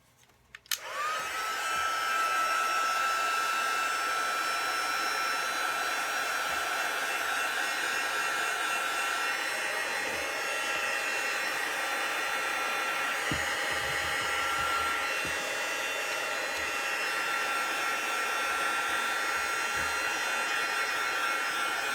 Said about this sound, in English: I think I'm going to help it along with my heat gun.